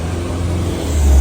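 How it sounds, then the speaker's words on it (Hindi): A car on a UK road produces a steady low engine rumble that grows louder near the end of the brief, close moment as it passes. "हाँ, इस तरह की गाड़ियों का थोड़ा सा शोर होता है,"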